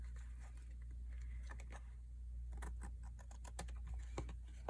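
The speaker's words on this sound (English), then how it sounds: "I am just gonna take my scissors here somehow and just cut the excess off for these" Scissors trim excess paper from a junk journal in soft, close clicks and snips over a low steady hum, with no talk.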